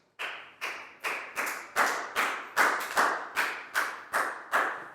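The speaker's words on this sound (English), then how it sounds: "High five and a big round of applause for Nadia." A class of children claps in bursts, about a dozen sharp rounds of applause in quick succession, close and fairly loud, with no voices.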